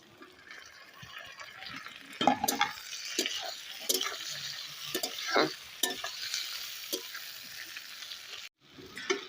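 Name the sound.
tomatoes added to half-boiled potatoes frying in pan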